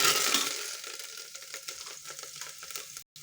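Curry leaves and a pinch of asafoetida crackle and sizzle in hot tempering oil, a steady close hiss with small pops, cut off abruptly near the end.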